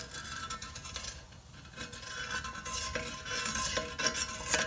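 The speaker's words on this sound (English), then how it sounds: "we're just going to use a deburring tool" A hand deburring tool scrapes around the edge of a metal throttle body, producing close, irregular rasping and scratching strokes that grow a little louder toward the end.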